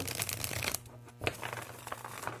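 Rapid riffling of a tarot card deck being shuffled, crisp papery bursts with a short pause midway, close and moderately loud, no talking.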